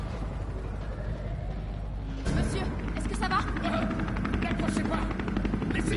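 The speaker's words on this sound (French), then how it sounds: "l'hélicoptère va vous conduire en lieu sûr" Helicopter in the video game Resident Evil 3 Remake, a steady loud rotor drone throughout with sharper rhythmic chopping and other game noise growing in after the first couple of seconds.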